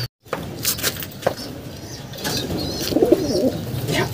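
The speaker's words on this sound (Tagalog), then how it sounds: "Gandang ibon mga kalapatids" Racing pigeons cooing and fluttering nearby, soft throaty coos rising over a steady outdoor background with a few sharp chirps and wing rustles, no talk.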